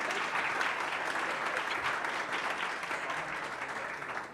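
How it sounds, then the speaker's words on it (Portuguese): Steady audience applause at a research forum greets the moderator, even clapping held at constant loudness throughout. "Palmas para o Marcos"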